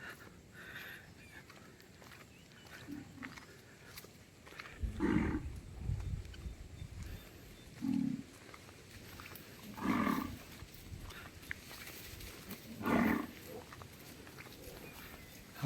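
Cattle roam an open forest area as a bull bellows in several deep, drawn-out calls spaced a few seconds apart, moderately close over quiet outdoor background with faint rustling.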